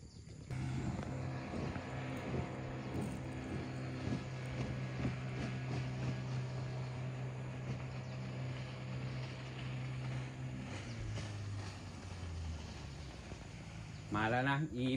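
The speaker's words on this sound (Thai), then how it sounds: "เสียงเรือเรามาละ" A steady low engine drone with a strong humming tone runs throughout, like a boat motor on water, shifting pitch near the end.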